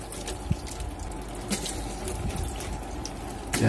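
Hot water poured onto the frosted evaporator of a mini fridge to defrost it, a steady trickling and splashing pour with a few sharp knocks, fairly close.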